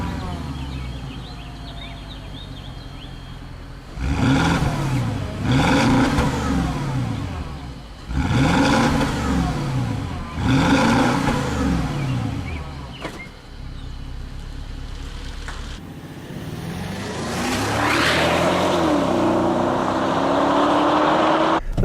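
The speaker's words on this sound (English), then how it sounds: "listen to that turbo engine" Porsche Cayenne Turbo engine revs in several strong, rising bursts, with a steadier drone near the end, heard close and loud with no talk.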